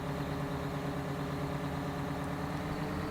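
A Big Bud tractor engine in Farming Simulator 17 idles with a steady, continuous low rumble and hum, holding an even level throughout with no voices.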